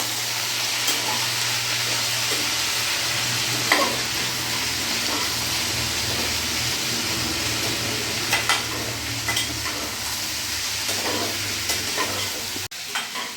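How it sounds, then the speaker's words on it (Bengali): Ground coriander, Kashmiri red chilli powder and other spices sizzle steadily in an oil-filled pan for a vegetarian elephant foot yam dish, with a spoon scraping through them in scattered strokes, close and continuous. "এবার ভালো করে আমি নেড়ে চেড়ে নেবো।"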